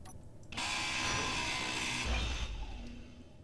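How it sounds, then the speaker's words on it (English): A drill boring through rock in the space survival game Space Engineers, a steady loud grinding whir that starts abruptly and holds for a few seconds. "While still drilling a wide enough hole that I can get through it."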